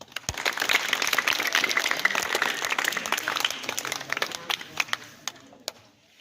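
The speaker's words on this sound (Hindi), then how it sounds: "ये बच्चे पास होने वाले के लिए तालियां बजाया करें।" Audience at a government high school results ceremony applauding students who passed, a burst of many hands clapping that fades to a few scattered claps at the end.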